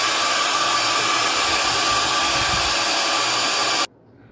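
A hair dryer blows steadily on a watercolor painting of a house, a loud continuous whooshing roar held close for almost four seconds, then switched off abruptly into near silence.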